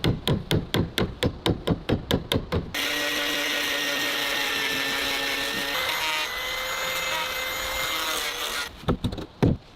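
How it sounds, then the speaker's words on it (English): A drill bores round holes into a wooden deck for railing rods: a run of evenly spaced sharp knocks gives way to a sustained loud whirring grind, ending with a few more taps. "The holes are being drilled according to measurements to prepare for fitting the rods."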